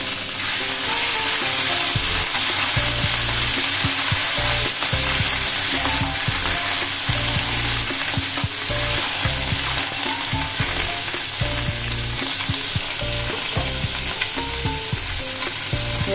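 Rohu fish pieces frying in oil for a Bengali fish curry, a loud, dense, constant sizzle with bubbling crackle and spatter heard up close, unbroken for the whole stretch with no voices.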